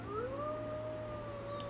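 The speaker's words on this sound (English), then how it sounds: "So now we know why the wolves howl." A long, rising and falling howl from a wolf or dog carries steadily over a low constant hum, clear and alone with no voices.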